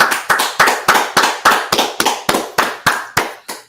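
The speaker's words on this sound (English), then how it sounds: "let's clap it up" A group claps in a steady, even rhythm, about three loud, sharp claps per second, close and prominent with no talking over it.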